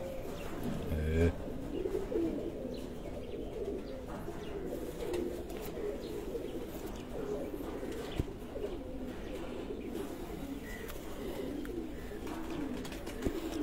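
Soft pigeon coos murmur steadily through a dense, low-pitched bed of outdoor noise at a home pigeon show in Sargodha, with occasional faint chirps and bumps.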